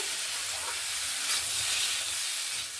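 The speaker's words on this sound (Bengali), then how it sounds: "গুঁড়ো মশলাটা দিয়ে ভালো করে নাড়াচাড়া করে নিয়েছি" Ground spices are stirred into fish curry frying in a pan, making a steady, loud sizzle with a scraping stir. It runs unbroken and close, with no talking.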